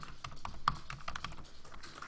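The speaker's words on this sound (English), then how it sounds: "You might even hear like the keyboard tappity tappity tappity." Quick, irregular tapping on a computer keyboard, a close run of soft clicks with no pauses, the only sound present.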